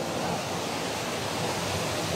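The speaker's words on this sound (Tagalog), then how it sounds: "Maagos yung tubig guys." A mountain stream running strongly, giving a loud, even rush of water that holds steady throughout without pauses.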